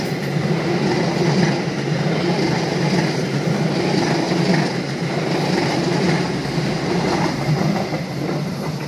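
Lodaya passenger train on the Bandung to Solo route rolling through a curve, a steady, loud, continuous rumble of wheels and carriages with faint clickety-clack, heard alone without talk throughout.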